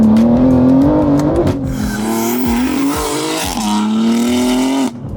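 BMW G80 M3 on test runs, its engine droning loud and close at a steady pitch that rises and dips with throttle, with a brief tire squeal and a sudden cutoff near the end.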